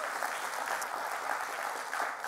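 A festival crowd gives a dense, continuous round of applause, clapping steadily and loudly throughout at a live games event.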